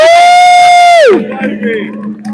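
A protest crowd outside Downing Street, London, with one loud, sustained whoop holding steady before sliding downward, followed by a rougher murmur of crowd noise and voices.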